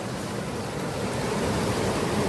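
A small waterfall rushes in a steady broadband hiss of falling water, close and unbroken, with no voices over it.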